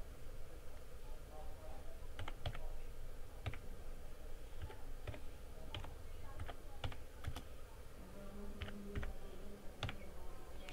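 Fingers type on a computer keyboard while a word is entered in MS Word, irregular crisp key clicks spread throughout over soft room noise, with faint background talk.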